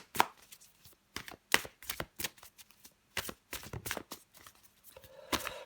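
Tarot cards are shuffled and drawn close by in quick, crisp riffling bursts and snapping flicks. The bursts come in an irregular rhythm with short pauses between them, and no one speaks.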